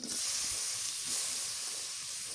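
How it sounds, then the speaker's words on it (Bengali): Chopped onions sizzling in hot oil for an eggplant and fish head curry using chitol fish, a steady close-up hiss and crackle that holds at even loudness throughout, with no talk. "মাছের মাথা দিয়ে বেগুন রান্না দেব, পেঁয়াজ কুচি দিয়ে দিই"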